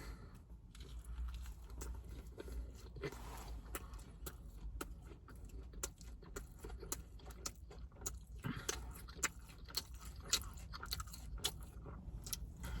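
A Hardee's chicken tender wrap with lettuce, honey mustard sauce and cheese being bitten and chewed, giving soft, close, crunchy mastication sounds that repeat steadily over a low background hum.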